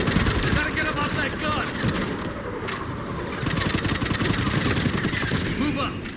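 A mounted gun in Mass Effect 3 hammers out sustained rapid fire, its dense continuous shots mixed with a battle din over about six seconds.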